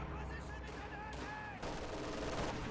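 A strafing run in the Company of Heroes 2 strategy game sends out a dense, rapid spray of distant gunfire with mixed battle noise, and a commentator talks over it.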